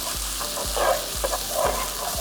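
Ground green chili paste sautéing in a pan for a Punjabi methi matar malai, a steady close sizzle with soft stirring scrapes and a few low bumps, with no voices over it.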